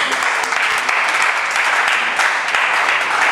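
Applause from a church leadership conference of bishops and pastors in Ghana, a dense, continuous wash of clapping from a large crowd that swells in waves.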